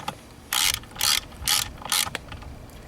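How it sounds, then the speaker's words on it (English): A ratchet wrench drives an 8mm bolt into aluminum on a GM/Chevy seat, making four short, close ratcheting bursts with brief pauses between them. "Tighten it up, and remember that it's going into aluminum, so you don't want to over wrench that."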